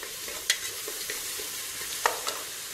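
Onions fry in a pan with a soft, steady sizzle while a spoon stirs them, scraping and tapping a few times, quiet and close.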